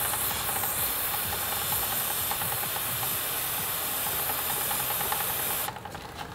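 Cleaner sprays in a long, loud, continuous hiss onto a motorcycle chain, close up, cutting off abruptly near the end.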